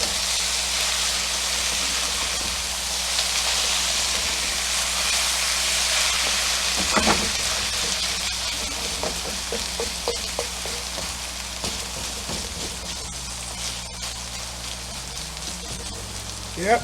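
Bulgogi beef sizzling and browning in a hot pan, a steady loud hiss of frying with bursts of crackling and a few stirring clatters, no talk.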